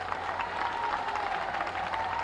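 A crowd at a BJP political rally in Hayaghat, Bihar, applauds steadily, with a dense wash of clapping and murmur sustained throughout at moderate level with no break.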